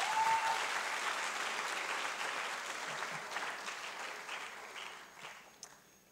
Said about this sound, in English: Can we clap for that group?